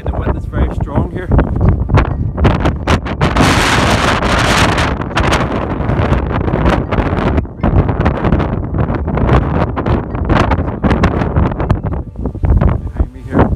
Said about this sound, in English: the wind is very strong here